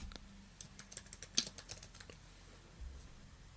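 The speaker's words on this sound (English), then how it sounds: "And then I will type in a category." Keys clatter on a computer keyboard in a short, quiet burst of uneven taps, one sharper click near the middle, then a lull and a light final press.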